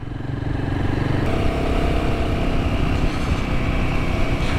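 A Royal Enfield Himalayan 450 motorcycle cruises in third gear at about 23 mph, its engine a steady close drone with light rumble and wind, and no talk.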